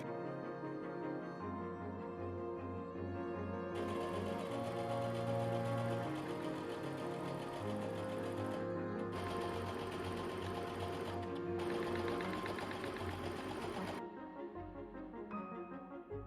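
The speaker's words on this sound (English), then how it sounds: "The darts on the front as well as the back are all stitched in place as well as the lining fabric." A sewing machine stitches the darts and lining fabric of a cocktail dress, running in long steady bursts with brief pauses between them, close and alone without talk.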